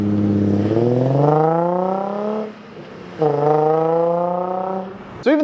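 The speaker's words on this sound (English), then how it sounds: "the VQ35 has such a distinctive exhaust note" A Nissan 350Z with the VQ35 engine revs in two long rising pulls, its exhaust note loud and close, each climb easing off before a brief pause, then a sharp click at the end.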